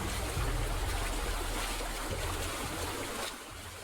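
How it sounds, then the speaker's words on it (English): Loud, steady rush of falling water like a waterfall, a continuous broadband roar that holds for several seconds before easing slightly near the end, with no voices over it. "A loud sound of falling water."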